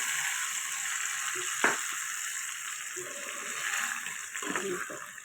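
Hot tempering of chillies and curry leaves sizzles steadily as it is poured into a pounded brinjal and tomato chutney, a close, continuous frying hiss with a soft tap partway through.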